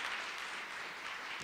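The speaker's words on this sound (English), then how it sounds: "A round of applause for her." Brief, faint applause from an audience at a launch event, a soft steady patter of clapping with no voices over it.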